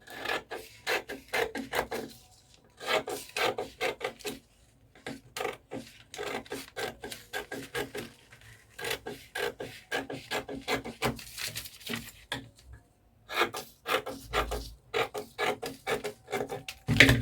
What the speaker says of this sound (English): Now we're going to be cutting out this pattern paper.